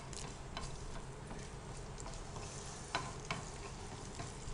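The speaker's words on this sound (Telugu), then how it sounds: "తాలింపులో కొంచెం కరివేపాకు." Curry leaves sizzling in hot tempering oil with mustard seeds and dried red chillies for curry leaf chutney, a steady, quiet frying hiss with a few sharp crackles and pops.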